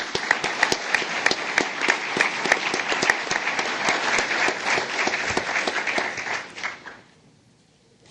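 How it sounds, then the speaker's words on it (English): An audience at a real estate and credit panel discussion applauds the panelists, a dense, sustained round of clapping that holds steady for several seconds before fading out quickly near the end. "So maybe we could just give them a round of applause and welcome."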